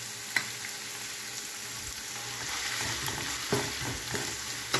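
Garlic, onion and ginger saute in a hot pan with a steady broadband sizzle, punctuated by a few sharp utensil clicks and scrapes as the aromatics are stirred; no voices.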